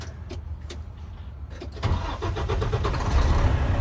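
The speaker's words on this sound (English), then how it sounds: "I'm going to start my truck." A truck engine cranks with a few quick starter bursts, then catches and settles into a steady, loud idle that holds to the end.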